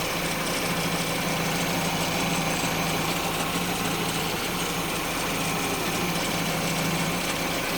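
A Citroen/Mini engine with an ECU-controlled water pump runs at idle, its pump pulley and belt turning, giving a steady close mechanical hum and whir with faint ticking throughout, no voices.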